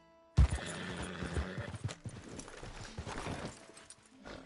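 Horse hooves clip-clop at a steady trot in Red Dead Redemption 2, close and fairly loud after a sharp start, with a whinny-like cry and game sounds in the mix.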